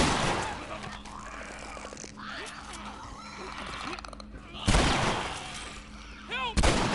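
Shotgun blasts in The Last of Us, a couple of sharp, loud bursts among tense gameplay noise, with a brief horse-like squeal near the end and no speech during the shots.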